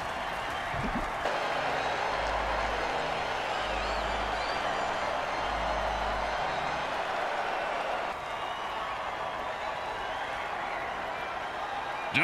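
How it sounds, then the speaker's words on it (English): Stadium crowd roaring and cheering after a touchdown in a football game, a sustained loud wall of noise with applause mixed in that swells and dips slightly throughout. "Listen to this crowd."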